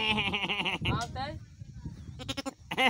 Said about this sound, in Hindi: देखिए इसका नाम है भेड़